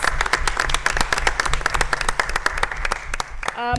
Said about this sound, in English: So let's all give them a hand clap.